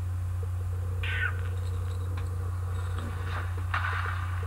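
A cat meows in a Chuck Norris Android video game, two short mews rising over a constant low electronic hum and game background noise.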